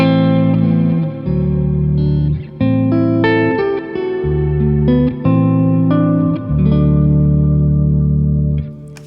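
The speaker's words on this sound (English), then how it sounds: "And here comes the Skylar in its plate reverb algorithm." Telecaster guitar played through a Revv D20 and a GFI System Skylar pedal on its plate reverb setting: lush, chorused chords and single notes ringing out with long reverb tails, loud and close with no talking.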